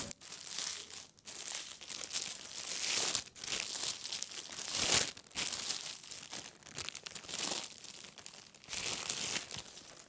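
Plastic packaging being crinkled and pulled off a new broom, close and fairly quiet, with continuous irregular rustling and sharper crackles throughout, and no talking.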